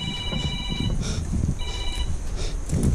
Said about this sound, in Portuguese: Vocês ouviram? O celular tocou